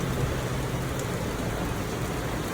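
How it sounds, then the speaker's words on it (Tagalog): Steady rain falls in a dense, even hiss, close and constant throughout with no voices. "Guys, naulan na naman eh"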